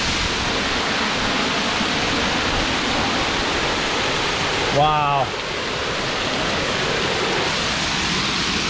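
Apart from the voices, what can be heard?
waterfall at Quaker Falls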